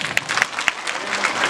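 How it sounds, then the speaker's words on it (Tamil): An audience claps at a school annual day at a girls' higher secondary school, a brief burst of many hands clapping unevenly, fairly close and loud. "கைத்தட்டலாமே"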